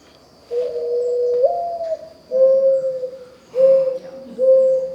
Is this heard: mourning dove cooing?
yes